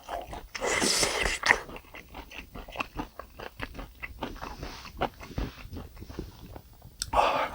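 Braised beef short ribs topped with melted cheese being eaten up close, with wet, crunchy chewing and biting that repeats steadily for several seconds and no talk.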